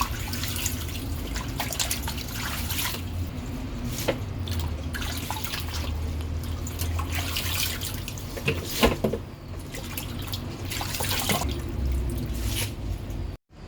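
Soaked kangkong (water spinach) being drained in a kitchen sink, with a steady wash of running and dripping water lasting throughout, and a few sharper splashes partway through before the sound cuts off abruptly at the end.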